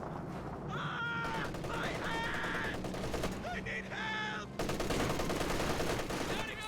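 Machine-gun fire from the real-time strategy game Company of Heroes 2 comes in rapid sustained rattling bursts over a busy battle soundscape, with shrill cries and other effects layered in.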